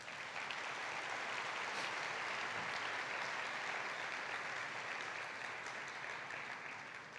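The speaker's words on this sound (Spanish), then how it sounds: "dele un fuerte aplauso a Jesús" A church congregation claps in a steady, dense wash of applause that fills the whole stretch evenly, sounding somewhat distant and soft, with no voices standing out.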